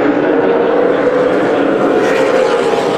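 Super late model race cars circle a tight 3/8-mile short track at the Bullring in Las Vegas, a steady loud engine drone with cars packed close together, under a trackside announcer's voice.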